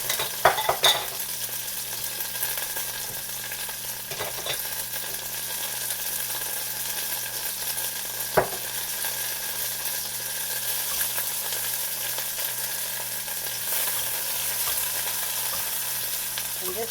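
Beyond Sausage Hot Italian links frying in oil in a pan, a steady close sizzle and crackle running throughout with a few sharp utensil clicks and taps, no talking.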